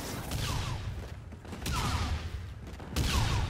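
Video-game shotgun fire on a classic Terminal map, with a few heavy blasts in quick succession amid a dense, busy mix of game sounds.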